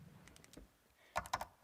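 Keys clatter on a computer keyboard in short, irregular bursts of taps, close and fairly quiet, with a louder cluster of strokes near the end and no talking.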